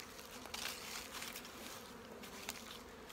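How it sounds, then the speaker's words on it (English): Honey bees buzz steadily around an open dry feeding station on a cold, windy day, a dense close swarm hum with a few louder passes near the microphone. "Oh, these bees, settle down."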